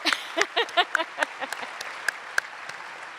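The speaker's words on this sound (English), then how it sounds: "So give your guys your round of applause" Audience at a 2019 Central Penn College commencement ceremony applauding, a brief burst of claps that quickly thins to scattered individual claps fading out over a few seconds.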